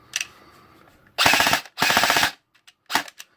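A brief single semi-auto pop followed by two rapid bursts of full-auto fire from a Cybergun SIG Sauer MCX airsoft rifle and a final short burst, close and sharp, with no talking.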